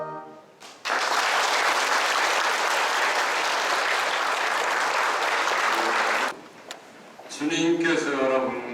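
A church congregation bursts into loud, dense applause at a retiring priest's farewell Mass, sustained for several seconds before cutting off, with someone speaking briefly before and after.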